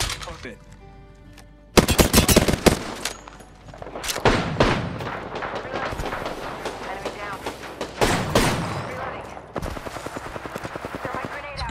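Rapid gunfire from the Apex Legends video game, with dense bursts of automatic shots and heavy thuds coming in waves, loud and close, while players talk over the action.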